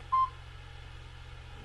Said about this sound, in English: That noise is my phone.